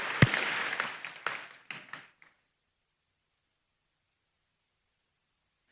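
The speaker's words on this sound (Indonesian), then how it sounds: "Kasih tepuk tangan buat Tuhan yang ada di atas badai" A church congregation applauding, a short burst of clapping that fades quickly within about two seconds, followed by silence.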